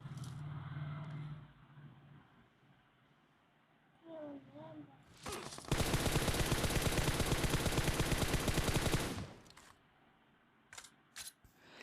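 Gunfire in the video game PUBG, a long sustained burst of rapid automatic shots lasting several seconds, followed by a few isolated single shots, with someone talking before the shooting.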